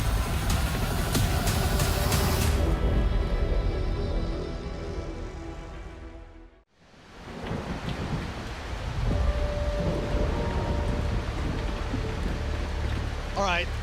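Heavy rain pours loudly at the start, cuts out abruptly near the middle, then returns as a steady downpour with faint distant rumbles, no clear talk over it.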